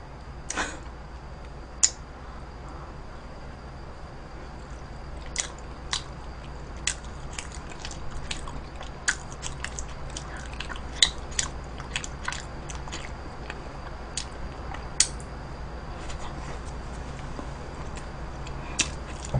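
Someone eating jajangmyeon noodles close to the microphone, a steady run of sharp crunchy bites and wet chewing clicks scattered through twenty seconds over a faint background hum, with no talking.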